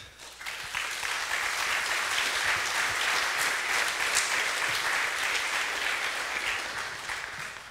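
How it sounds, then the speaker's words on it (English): An audience applauds after a Python conference talk on logging, clapping rising quickly to a dense, steady roar and holding for several seconds before easing slightly. "Really, a huge applause for Mark again"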